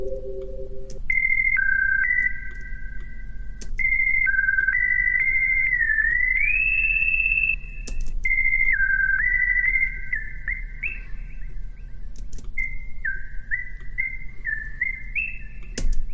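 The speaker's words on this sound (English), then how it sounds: "I'll just make something that sort of sounds like a whistle." A synthesized whistle-like lead plays a house music melody, sliding between held notes in short stepped phrases that rise and fall, loud and steady over a continuous low synth bed, with no voice.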